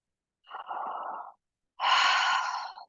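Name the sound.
yawn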